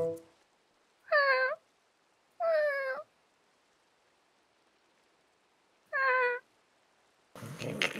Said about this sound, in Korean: 그 고양이 새끼들 재수 없게 밤마다 허구한 날 울어대고 말이야